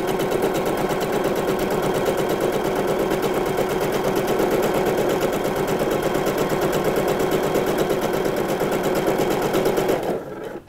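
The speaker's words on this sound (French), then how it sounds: "Je fais des points d'arrêt et ensuite, je vais piquer sur ma ligne tracée en bleu." Sewing machine stitching shorts fabric along a traced line, a steady rapid mechanical whir held at close range for about ten seconds before stopping abruptly at the end, with no talk.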